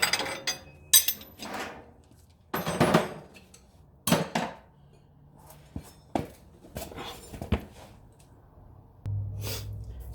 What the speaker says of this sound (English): Going ahead and replacing the cotter pin.